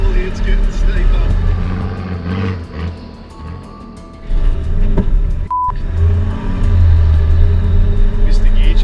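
A four-wheel drive engine labours up a steep bush track, its loud, close rumble dipping midway before surging again, with bumps and jolts through the drive and people talking over it.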